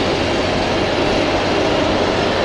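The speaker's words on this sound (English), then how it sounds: "Flight Pegasus now taxiing." A Pegasus airliner taxiing at Hamburg Airport makes a steady, loud, unbroken roar of engine noise with a low rumble underneath, continuous with no pauses and no voices.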